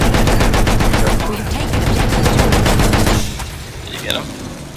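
Rapid, loud automatic gunfire in Battlefield 1, a dense burst of shots that eases into scattered, quieter shooting, with a voice briefly heard.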